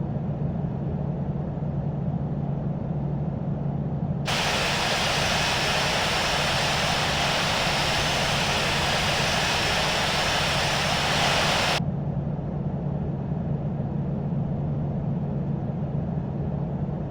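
Aegean A320 taxiing at Athens in the Infinite Flight simulator game, a steady synthetic jet engine hum with a constant low drone and a broadband hiss that brightens for several seconds midway, with no voices.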